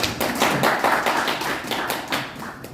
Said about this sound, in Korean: 박수로 환영해 주시고